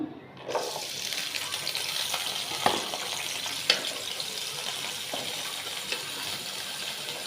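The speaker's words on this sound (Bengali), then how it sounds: "শুটকিটা রান্নার জন্য যেদিকে তেলটা দিয়ে দিলাম, আর সাথে দিয়ে দিব পেঁয়াজ আর রসুন" Onion and garlic frying in hot oil for a dried-fish (shutki) dish, giving a steady close hiss with a few sharp clicks and pops along the way and no talking.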